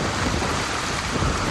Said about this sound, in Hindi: बारिश की तेज आवाज पर्पल फ्रॉग्स के कानों तक पहुंच गई है।